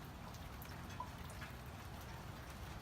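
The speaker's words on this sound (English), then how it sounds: "it is finally raining in California" Rain falling steadily outdoors in California, a faint even patter and wash of drops with no voices.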